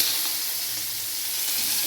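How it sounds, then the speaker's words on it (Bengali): Vegetables, including green peas, hit hot mustard oil in a pan with a brief, close, hissing sizzle that stays steady for a couple of seconds, with no voices. "সবজি ছেড়ে দিচ্ছি"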